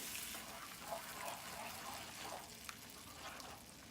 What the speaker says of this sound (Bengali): এবার আমি এর মধ্যে দিয়ে দেব জল।